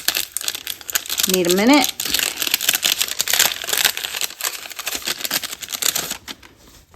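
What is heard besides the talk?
vintage postage stamps being pulled out of their envelope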